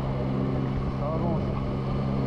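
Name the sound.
Yamaha Tracer 9 GT motorcycle engine accelerating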